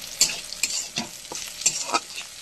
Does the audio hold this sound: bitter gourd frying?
yes